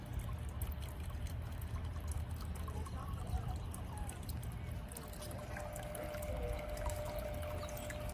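Water pours and trickles steadily into a backyard garden pond, a continuous splashing rush heard from nearby without any talking.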